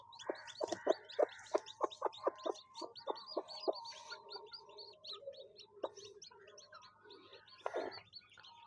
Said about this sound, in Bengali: এদিকে আমার সব এই মুরগি আছে, বড়ার মুরগি আছে, টাইগার যাকে বলা হয়।